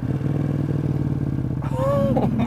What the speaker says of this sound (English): first ride with the new exhaust system